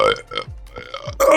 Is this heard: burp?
yes